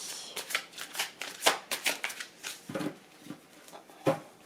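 Tarot cards being shuffled by hand for a reading, a run of quick papery riffles and slaps in irregular bursts, close and fairly quiet with no talk.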